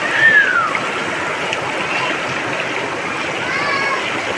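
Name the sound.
river water flowing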